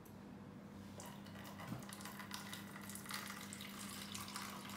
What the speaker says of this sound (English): You can see the bowl is being filled.